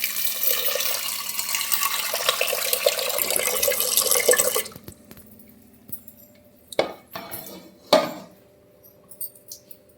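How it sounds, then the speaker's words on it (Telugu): Lentils being rinsed in clean water: a steady rush of running water and sloshing for several seconds, then quieter, with a few sharp clinks of metal or glass vessels close by. "ఇప్పుడు మనం ముందుగా పప్పు కడుక్కుందాం మంచి మంచినీళ్ళు"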